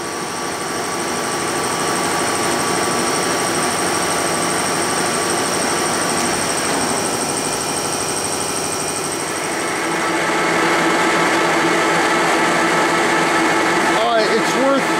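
A Lucas 441B-72 table-type horizontal boring mill, 4-inch spindle, runs at 453 RPM with a steady mechanical whir and faint high whine, growing slightly louder partway through, alone and close by.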